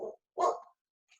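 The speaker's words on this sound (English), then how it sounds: "you get to meet my black lab who likes to bark at car horns" A black Labrador barks indoors, two short close barks in quick succession, followed by a faint brief yip trailing off after a pause.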